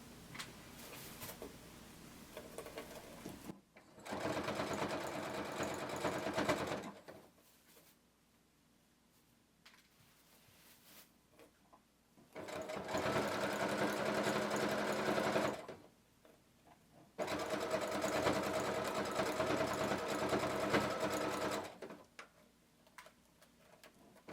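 Sewing machine stitching a side seam on a sequin cardigan, running in three steady bursts separated by quiet pauses, close and clear with no talking.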